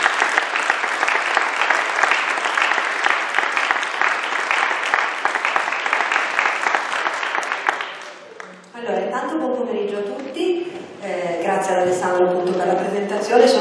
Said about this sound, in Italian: quindi un grandissimo applauso